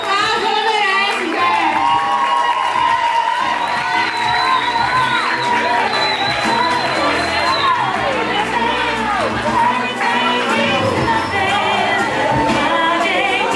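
Party guests applaud and cheer at an 18th birthday celebration, steady crowd clapping mixed with chatter, voices and music throughout, loud and continuous.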